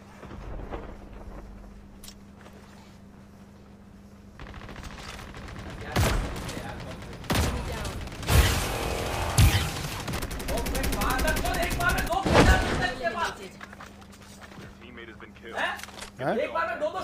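Bursts of gunfire in the mobile game Call of Duty Mobile, scattered single shots and rapid volleys building to a dense fusillade midway, with someone talking over parts of it.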